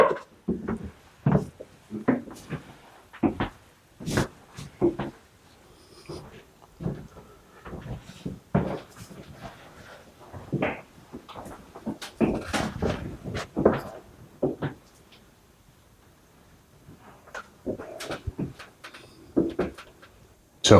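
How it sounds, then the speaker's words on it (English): An old door latch in a 300-year-old mansion is worked repeatedly, giving a series of sharp wooden and metallic clacks and rattles at close range with uneven pauses. "This is the door latch here."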